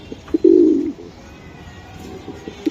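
Racing pigeon giving a single clear coo up close, followed by a few softer, shorter coos against a quiet background.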